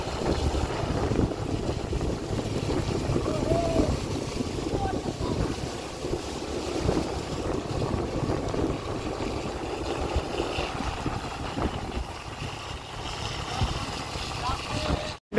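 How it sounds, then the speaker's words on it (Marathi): Wind and sea waves at Karde beach on the Konkan coast make a steady, close roar, with gusts buffeting the microphone throughout and no clear break. "फायनली आलेलो आहे समुद्रावरती आणि आता आम्ही आहे पोचलं कर्दे बीचवरती"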